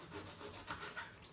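Knife cutting the peel away from the sides of a quartered fruit, a few soft scraping strokes close by, quiet and brief, with no talking.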